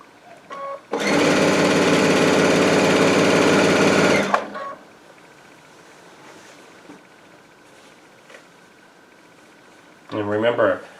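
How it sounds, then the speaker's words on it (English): A Baby Lock Altair sewing machine stitches quilt binding in one loud, rapid, even burst of about three seconds, then falls quiet before a shorter whirring run at the end. "I am just guiding the fabric. The machine is doing all the work."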